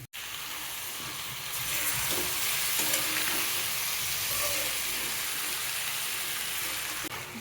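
Marinated meat with soaked lentils frying in a pan, a loud continuous sizzle and hiss close by that swells after the first moments, with faint stirring and no voices.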